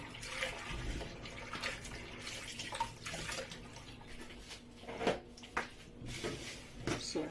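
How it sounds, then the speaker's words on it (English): Tap water rinsing peeled beans in a sifter in a home kitchen, a steady broadband splashing and trickling with a few louder splashes and clatters near the end. "So guys, I'm going to wash my beans."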